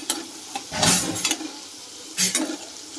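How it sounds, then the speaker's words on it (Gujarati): Onions with salt sauté in a pan, giving a close, steady sizzle, with louder bursts of hissing and scraping each time they are stirred. "આપણે આ કાંદાને થોડીક વાર સાતળવા દઈશું સ્વાદ અનુસાર થોડુંક મીઠું નાખી દઈશું"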